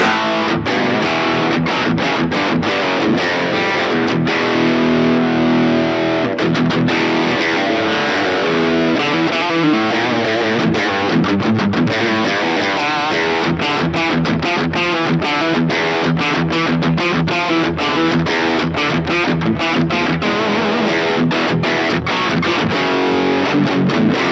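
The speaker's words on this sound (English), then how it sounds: "that was the overdrive" An electric guitar runs through an amplifier's overdrive channel, playing a long, loud run of gritty, saturated chords and notes with sustained crunch and no talking.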